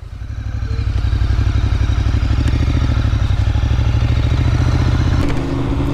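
A moped pulls away slowly carrying a rider and a passenger, its small engine putting out a steady, close putter with faint clatter, then easing off near the end.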